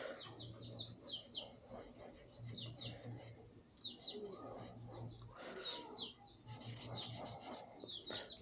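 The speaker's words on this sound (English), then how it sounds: "for wet sanding, you basically just make sure it's wet" Steady rhythmic rubbing strokes of wet sanding on a painted motorcycle exhaust, moderately close, with birds chirping in the background throughout.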